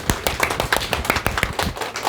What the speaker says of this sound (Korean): 경례 박수.